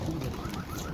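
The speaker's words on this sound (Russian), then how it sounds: "Вот такие голуби." Pigeons coo continuously and close by, a soft throaty warbling over a busy background of overlapping bird sounds.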